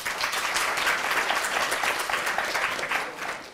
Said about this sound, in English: we'll get through more if we don't applaud the question